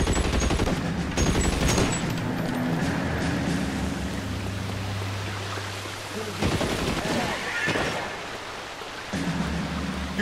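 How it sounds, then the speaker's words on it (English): Rapid gunfire rattles through a shootout in the video game L.A. Noire, with sustained bursts under a steady noisy bed and a voice speaking partway through. "Who's shooting?"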